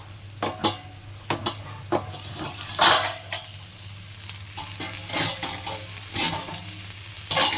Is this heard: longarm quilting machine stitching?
no